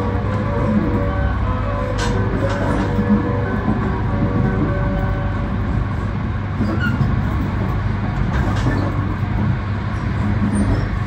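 A Yamagata Shinkansen Tsubasa train stands at snowy Shinjo station, giving off a steady, close, low rumble with faint clanks over the full clip, and no voices.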